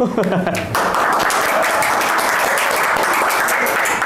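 An audience breaks into steady, loud applause after a short spoken line, the clapping filling the rest of the moment as a dense wash.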